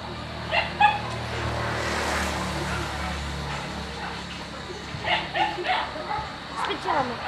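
A dog gives a few short barks and high whimpers, close by indoors, in bursts near the start and again toward the end, with people talking around it.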